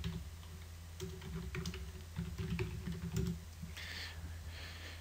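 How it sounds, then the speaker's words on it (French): Login credentials being tapped out on a computer keyboard: a close, quiet run of irregular key clicks over a steady low electronic hum. "Donc on tape les identifiants si j'y arrive"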